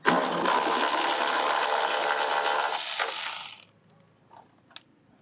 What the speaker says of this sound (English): You're going to get your same T30. Take out the 3 bolts.